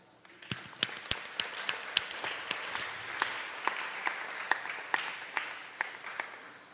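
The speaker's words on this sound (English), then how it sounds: "May I ask that we also honor our parents and guardians today by giving them a loud and responding applause." Graduation audience at a Catholic school ceremony applauding parents and guardians, sparse individual claps building into scattered, moderately close clapping across the room.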